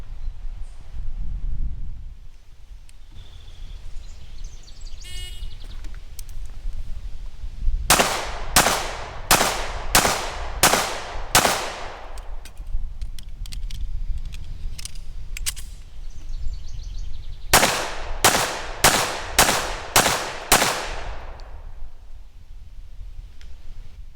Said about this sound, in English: On a signal to fire, I'll fire 6 rounds, then I'll reload behind cover, and then fire 6 more rounds from behind cover